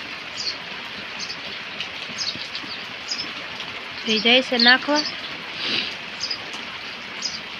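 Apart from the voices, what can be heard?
heavy rain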